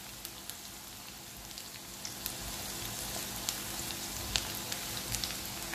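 Onion and garlic sautéing on a high flame, a dense, steady crackling sizzle that runs throughout with scattered tiny pops, heard close and without any talking.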